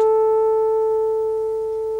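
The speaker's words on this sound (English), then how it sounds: "electric circuit is sending out a signal which is being fed through to the loudspeaker" A steady electronic sine tone from an oscillator circuit played through a loudspeaker, pure and unwavering with a faint overtone, holding level for two seconds and easing slightly softer toward the end, with no voices.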